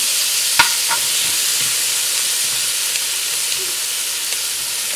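Garlic, tomato and thyme frying in a pot for Jamaican brown stew chicken, with a steady close sizzle and hiss, a few scraping stirs and light clinks, no talk.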